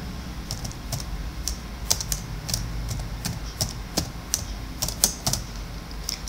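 Someone types a short line of Python code on a computer keyboard, a steady flurry of close, crisp key taps with uneven rhythm and a few sharper strikes, over faint room noise and no speech.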